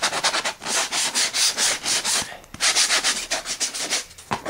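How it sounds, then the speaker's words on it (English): Edges of a gasket template board are sanded by hand in steady back-and-forth rubbing strokes, close and moderately loud, with a short pause midway and no talking. "Okay, that's the finished board done. I'll just get a sand down on the edges."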